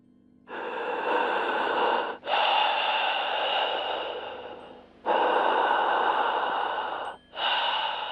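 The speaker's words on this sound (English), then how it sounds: "hear heavy breathing on the line" Heavy breathing on a phone line, long loud raspy breaths in and out, four drawn-out breaths separated by short pauses, close and alone.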